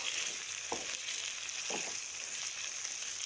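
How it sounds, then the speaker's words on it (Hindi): Steady hot-oil sizzle and crackle as spices are tempered for sarson ka saag (mustard greens), with two brief stirring scrapes, no voices. "ये देखिए आप भी इसी तरह तड़का लगाएं"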